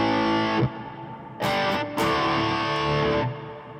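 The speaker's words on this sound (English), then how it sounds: "recently added the small plate reverb and the small room reverb" Distorted electric guitar chords through a Fender Tone Master Pro ring out with a washy reverb tail, struck several times with brief gaps, loud and up close.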